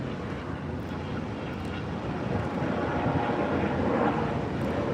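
Steady low engine roar of a helicopter flying overhead in Las Vegas, continuous and fairly loud, with a broad rumbling wash that swells slightly toward the end.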